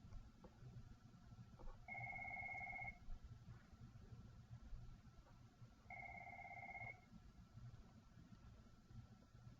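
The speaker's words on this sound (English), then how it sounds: "I'm ignoring that phone call right now" A telephone rings twice with electronic tones, each ring lasting about a second, several seconds apart over a steady hiss of background noise.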